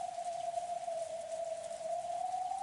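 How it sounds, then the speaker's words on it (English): A rain sound effect in the Umineko visual novel game gives a steady hiss of falling rain with a sustained mid-pitched tone running through it, even and unbroken, with no talking. "And that must be rain."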